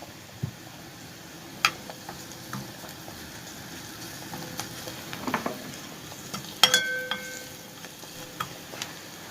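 Onion and garlic frying in oil in a pan, a faint steady sizzle under scattered sharp clinks and scrapes of a utensil stirring against the pan.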